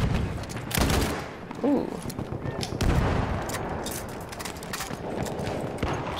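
Sniper-variant rifle fire in Battlefield 1 cracks out in several loud, close shots with rumbling echoes amid battlefield noise, while a player's exclamation sits over the action.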